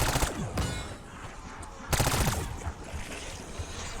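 Submachine gun fire in a Call of Duty Zombies game, two loud rapid bursts of automatic shots close up, each trailing off into echoing decay and scattered game noise, no clear talk.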